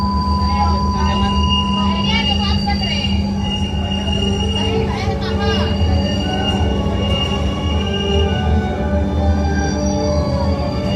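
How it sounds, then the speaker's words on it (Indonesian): Inside a moving LRT train in South Sumatra, a steady loud rumble of wheels on track with a constant electrical hum and occasional faint squeals, and people speaking in the background. "Lagi di dalam LRT Sumatera Selatan."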